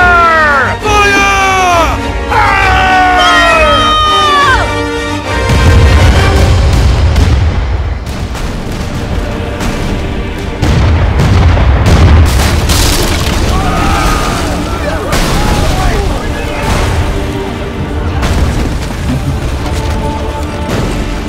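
Repeated fire spell blasts in the video game Kingdom Hearts 3, loud deep booming bursts layered over battle music and chirpy game effects, with a person shouting over the action.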